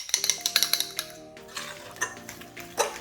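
Meatloaf ingredients, ground meat with garlic powder, red pepper flakes, grated parmesan and eggs, are mixed in a bowl with a utensil. Quick clinks and scrapes against the bowl come close up and fairly quiet, then slower, scattered knocks.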